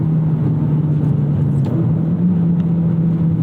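Modified Subaru WRX STI or Lancer Evo X engine droning steadily through a loud aftermarket exhaust, a constant low rumble held at steady revs with no clear rise, heard up close from inside the car.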